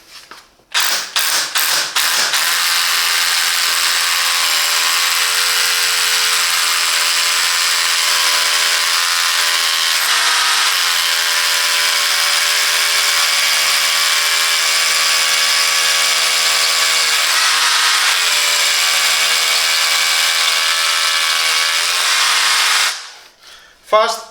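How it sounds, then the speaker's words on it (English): A Parkside PABH 20-li C3 cordless hammer drill bores into concrete in one long, loud, steady run of nearly twenty seconds, preceded by a few short bursts and ending in a quick stop. "Fast and precise drilling, I like it. And on a concrete."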